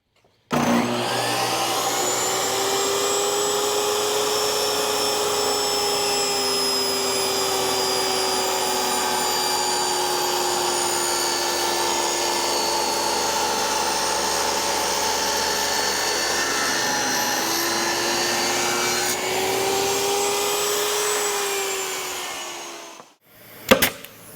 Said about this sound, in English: I went ahead and did a little sanding on these